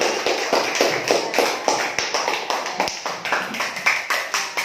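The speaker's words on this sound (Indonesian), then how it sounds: "Kasih tepuk tangan untuk kelompok Ali bin Abi Thalib" A class of children claps together for a group in a quick, steady rhythm, sharp close hand claps continuing throughout.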